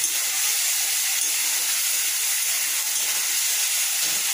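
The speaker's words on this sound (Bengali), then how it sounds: "আলু ভাজা হয়ে গেছে, এবার আমি জিরা আদা পেস্ট দিলাম।" Cumin and ginger paste sizzles in hot oil in a pan for a rohu fish curry, just after frying potatoes. A steady, loud hiss carries on without a break and no one talks.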